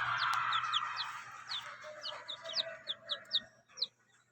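Young chicks, from day-old to three weeks old, peep and chirp in a series of short, bright calls while pecking at feed mixed with a red supplement, close by over a low steady hum.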